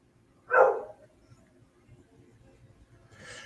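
One short dog bark rings out at a distance, then near silence before a fainter sound at the end.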